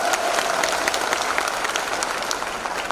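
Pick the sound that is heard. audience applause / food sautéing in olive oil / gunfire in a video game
audience applause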